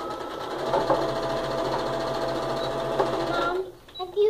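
A sewing machine stitches quilt pieces in a short, steady mechanical run up close, then stops abruptly near the end as faint household sounds follow.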